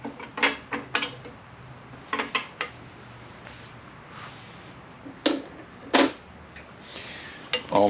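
Metal clutch parts for a Roto Hydramatic transmission clink and clatter as a neutral clutch pressure plate is set into the transmission case, giving scattered light metallic taps and knocks, close and fairly quiet.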